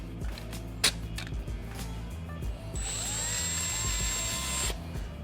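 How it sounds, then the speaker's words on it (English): A power drill with a 1/4 inch bit whirs steadily for a couple of seconds boring holes, amid faint clicks and handling noise, fairly quiet and close. "You're going to use a 1/4 inch drill bit."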